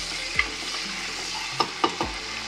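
Sliced onion and chopped green chillies fry in a pan with a steady close sizzle, while a spatula scrapes and clinks against the metal a few times.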